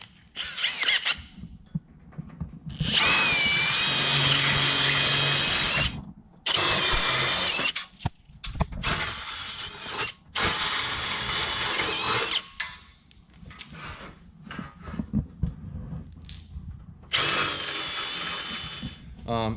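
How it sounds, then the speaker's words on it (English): A power drill with a 9/32 bit bores holes for a Ryder Rack Bolt installation, whirring in repeated bursts of varying length separated by short stops and clunks, close by, with a voice talking over parts of it. "come back with a 9/32 drill bit."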